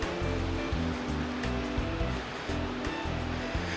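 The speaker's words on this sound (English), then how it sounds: "That is a gnarly cool waterfall right there." Steady, dense rush of a tall, slim waterfall in Oregon, loud and constant throughout with no voices.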